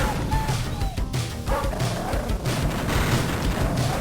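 Black dogs bark in the 1988 Williams arcade game NARC, a steady run of short, repeated electronic barks over dense, noisy game music and explosion effects.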